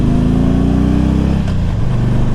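A 1999 Harley-Davidson Electra Glide Standard touring motorcycle engine runs close and loud with a steady low throbbing rumble. The pitch dips slightly partway through.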